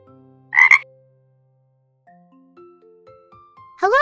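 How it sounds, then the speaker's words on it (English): Cartoon frog at a zoo gives a short, loud croak, then, after a few soft musical notes, a second croak, both standing alone without speech. "Hello, I am a frog."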